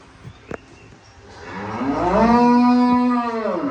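A single Holstein Friesian dairy cow moos loudly and close by, a long drawn-out low call with rising strength, preceded by a couple of faint clicks.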